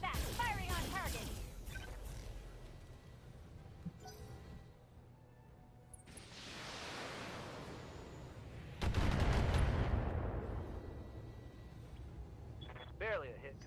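Mech weapons firing on a target in the video game Battletech: loud rumbling launches and sweeping whooshes, with a big burst of heavy fire midway, beneath synthetic game voices.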